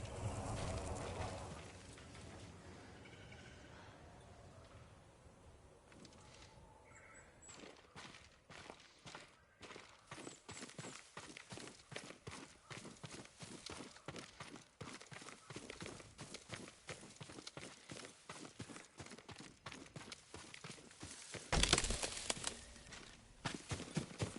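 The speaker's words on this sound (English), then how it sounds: "Yuriko's horse." Horse hooves clip-clopping in the video game Ghost of Tsushima, a steady stream of close, rhythmic hoofbeats that runs for a long stretch amid faint ambient sounds.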